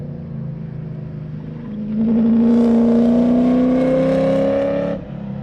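A C8 race car at Gingerman circuit rises from a steady drone into a loud, climbing engine note for about three seconds, then cuts off sharply as it reaches the first turn, with no talking.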